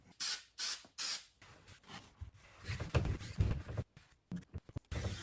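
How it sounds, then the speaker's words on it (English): Repeated bursts of spray adhesive hiss from an aerosol can, a few short puffs then longer, uneven spraying close by, with brief pauses between, while laying carbon fibre. "we'll probably use a bit of spray tack to kind of hold this in place"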